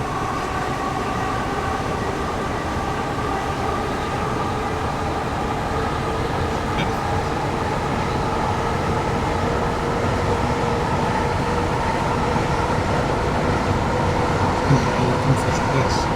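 In Train Simulator 3, a train rolls on at a steady pace, making a loud, unbroken rumble with layered engine drone. A faint voice is heard under it.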